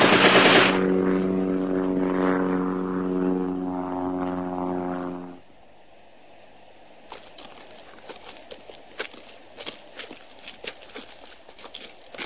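An observation aircraft's propeller engine drones loudly and steadily at first, then fades and gives way to quieter ambience scattered with faint ticks and knocks.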